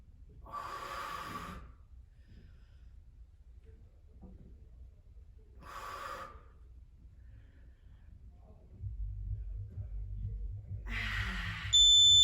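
Heavy exercise breathing during an upper-body dumbbell and bench workout, with three loud breathy bursts, inhaling and exhaling, spaced several seconds apart over low background rumble.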